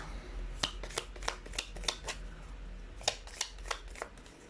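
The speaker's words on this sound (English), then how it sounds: "You saw me shuffle." A deck of tarot cards being shuffled by hand, with quick riffling bursts in an uneven rhythm close up, alone without talk.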